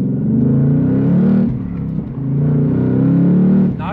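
A 2024 Ford Mustang Dark Horse accelerates hard in first gear, its engine roaring loud and close with rising revs, a brief lift in the middle, then climbing again before cutting off.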